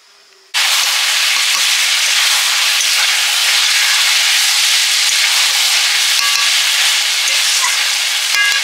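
Meat sautéing in a hot pan starts abruptly with a loud, steady, close sizzle that holds unbroken, with faint stirring scrapes underneath and no talking.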